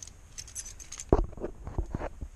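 Keys jangle at close range in a garage while someone works on a 1990 Honda Civic charging system with the battery cable just reconnected, a sharp metallic jingle of clinks that fades into scattered rattles.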